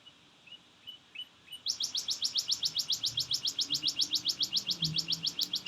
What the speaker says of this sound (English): The birds are really out here right now.